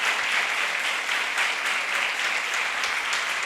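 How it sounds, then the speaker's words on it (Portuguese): A church congregation claps in sustained, dense applause, loud and even throughout with no pauses. "Dá uma salva de palmas para Jesus"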